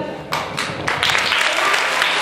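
Audience applause at the Jocs Florals 2013 awards ceremony, steady clapping from a crowd that builds after a moment and carries on loudly to the end.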